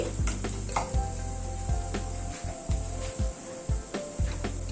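Ground spices, including coriander powder, sizzle in a hot pan while a utensil stirs them for a paneer dish, with repeated scraping and tapping strokes against the pan over a constant frying hiss.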